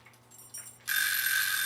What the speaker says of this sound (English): And there's our little timer.